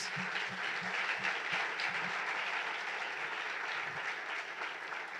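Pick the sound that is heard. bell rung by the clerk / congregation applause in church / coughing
congregation applause in church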